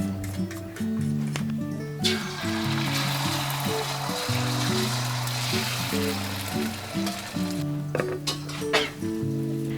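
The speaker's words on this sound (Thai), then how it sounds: "เราตั้งกระทะแล้วนะ เดี๋ยวพอ น้ำมันร้อนก็ใส่" A steady hiss of an egg frying in hot oil fills the pan, with clinks and knocks of utensils throughout.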